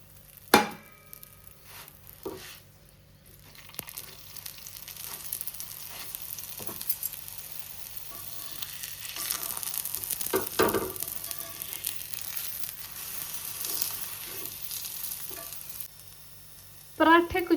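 Stuffed parathas filled with potato, onion, red chilli powder, turmeric and salt cook on a hot pan, a steady sizzle with scraping and tapping clicks throughout, growing busier midway, no talking.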